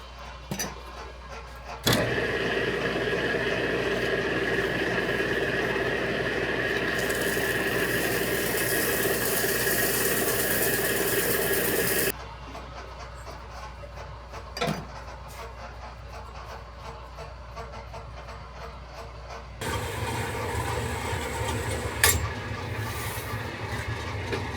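A milling machine cuts through a metal part, giving a steady droning whine with tonal bands for about ten seconds, then drops to a quieter hum, with a few sharp clanks and a rougher grinding stretch near the end.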